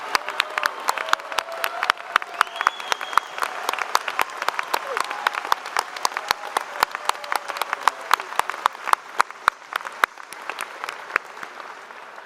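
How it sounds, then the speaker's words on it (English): A large audience at a university convocation applauds continuously, dense clapping at a steady level throughout, with a few louder individual claps standing out. "Could we give a final round of applause to the spring graduating class?"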